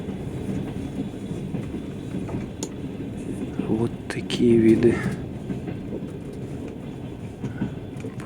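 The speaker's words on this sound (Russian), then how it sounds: "Едем на поезде." A Russian Railways passenger train runs near Kurgan on a long trip from Novosibirsk to Crimea, with a steady carriage rumble and soft clickety-clack of wheels on rail joints. Someone speaks briefly over the noise.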